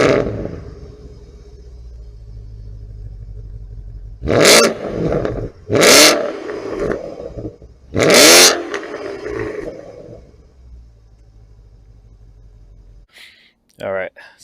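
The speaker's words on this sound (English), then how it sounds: "let's start this car up." A 2013 Porsche Panamera GTS engine idles with a low rumble, then is revved hard three times in loud, close bursts before settling. A voice is heard briefly at the end.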